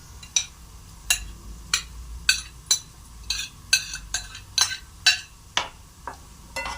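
A utensil stirs browned onion with greens, peppers and tomatoes in a pan, making about a dozen sharp clinks and scrapes in an uneven rhythm, close and alone.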